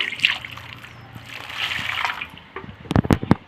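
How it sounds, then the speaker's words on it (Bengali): Raw mangoes are rinsed under water, a soft trickle and sloshing giving way to a burst of sharp splashes and drips toward the end. "দেখুন, এভাবে জল দিয়ে ধুয়ে নিলাম।"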